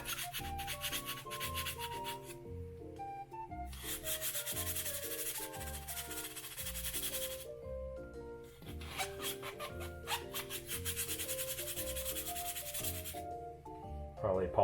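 Hard, pressured scraping on aquarium plastic to remove residue, a close, continuous gritty rubbing in long strokes with brief pauses between them.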